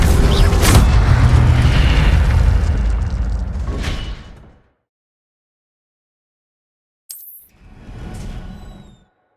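A fiery Incendio spell explosion from Hogwarts Legacy roars loud and close, a sustained burning blast that cuts to silence, then a shorter second burst of magical fire follows.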